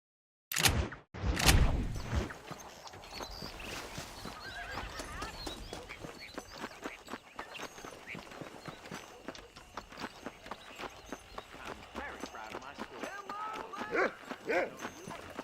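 Red Dead Redemption horse lets out a loud whinny at the start, followed by steady clip-clopping hooves that continue throughout, with occasional louder hoofbeats near the end.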